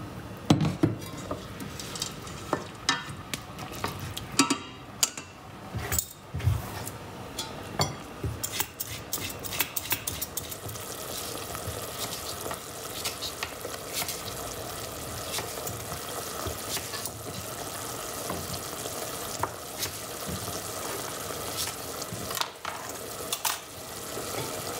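Lentil and white asparagus risotto cooking gently in broth in a pan, a steady soft sizzle and bubbling with scraping and clinking from stirring, close, with no talk.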